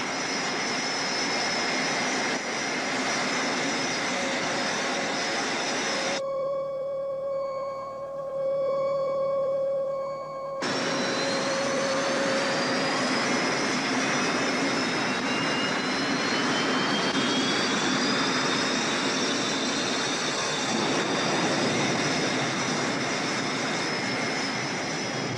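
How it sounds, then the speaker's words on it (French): A cartoon spaceship's engine roars as the ship departs carrying a rock, a steady jet-like drone that cuts out briefly, then returns with rising whistling tones and fades slightly. "Le vaisseau s'en va! Il emmène le rocher avec lui."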